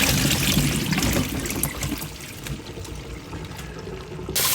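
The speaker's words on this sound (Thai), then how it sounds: "เทน้ำเก่าทิ้งให้หมดนะคะ" Old brine being poured off pickled bamboo shoots before rinsing, a steady splashing and trickling pour of liquid heard alone, fairly loud and continuous, easing slightly midway then surging again at the end.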